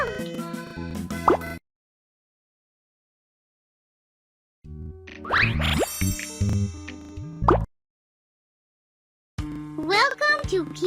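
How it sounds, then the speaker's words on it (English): Watering a sprout in the Baby Panda children's garden game: bright cartoon plops and drips of pouring water with tonal game effects, in separate bursts between silences, alongside a child-like game voice. "Water the sprout."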